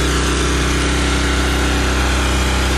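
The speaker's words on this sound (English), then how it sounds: "The Santa Claus is blowing up as we speak." A blower fan inflating an inflatable Santa Claus gives a loud, steady motor drone with a constant hum, unbroken and close by.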